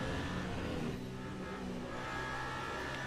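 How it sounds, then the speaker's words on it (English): Race car in the Le Mans Ultimate racing game taking a corner, with a steady engine drone and a sustained tire squeal running continuously throughout, loud and without speech. "And you can hear the tires that are screaming, but they're just delivering the grip."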